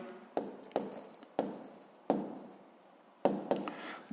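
A pen scratches across paper in short, separate strokes, close and fairly quiet, with pauses between each mark as a sixth-grade maths exercise is written out.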